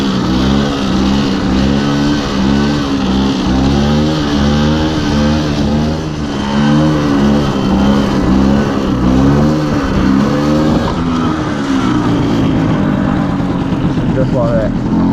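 A motorcycle engine close by, the throttle opened and closed in a steady rhythm while the rider holds a wheelie, revving up and dropping back over and over, then one long lower drone near the end.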